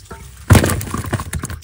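Freshly caught fish from a Sundarbans river tumble out of a container in one sudden wet, clattering slosh, then a short scatter of slapping and shifting before it settles.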